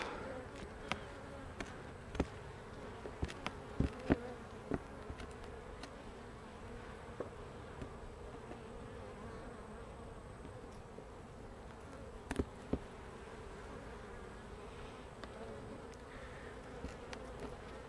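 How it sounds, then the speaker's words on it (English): Honey bees hum in a dense, steady drone from an opened hive in late summer, with occasional soft clicks and knocks from handling over the swarm's constant buzz. "There's quite a few bees up in there working."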